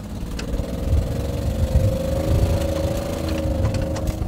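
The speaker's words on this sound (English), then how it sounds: "I like the exhaust leak" An old, abandoned hunting mini truck with an exhaust leak runs with a steady, rumbling engine drone and rough puttering underneath, held close and constant throughout.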